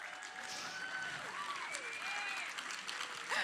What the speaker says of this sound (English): I like it when you guys applaud.